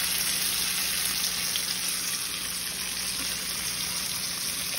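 Steak frying in a pan at home, a steady broadband sizzle and crackle that holds evenly throughout with no talk.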